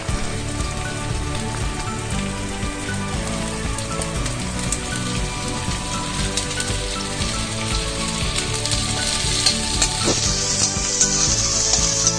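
Green beans hit frying onions in a pan and set off a loud, steady sizzle that crackles without letup, like hard rain, and swells slightly near the end.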